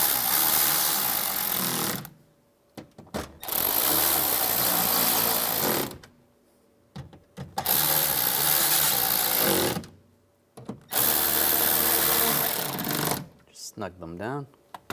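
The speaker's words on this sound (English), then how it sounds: "Take the screws, get those started, and tighten them down." A power drill runs in long, loud bursts of a few seconds each, separated by brief pauses, while driving screws to fasten a window regulator inside the driver door of a 2011–2019 Ford Explorer.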